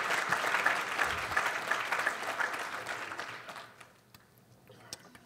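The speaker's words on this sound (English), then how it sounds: "Thanks for clapping." Audience at a talk during a freethought convention gives a full round of clapping that fades away over about four seconds, leaving a few scattered late claps in near quiet.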